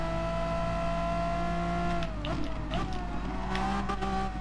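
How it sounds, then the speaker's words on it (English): A race car engine in Gran Turismo Sport, a GR4-class car at the Red Bull Ring, holds a steady high-revving drone, then drops sharply in pitch partway through as it downshifts, followed by further rev changes. "Oh, downshifted there at high revs."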